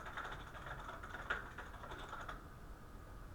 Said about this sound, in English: I'm typing so slow,